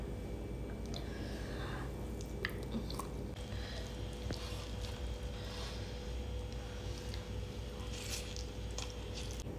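Close-up chewing of rice with spicy, sour-sweet dendeng balado chili, steady wet mastication and soft squishy bites continuing without talk over a constant background hum.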